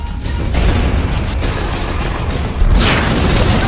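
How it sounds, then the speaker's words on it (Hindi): Dense, continuous explosions all around in an animated superhero battle, a loud roaring wall of booms and rumbling blasts with a fresh surge near the end, no voices. "यहाँ हर तरफ धमाके हो रहे हैं"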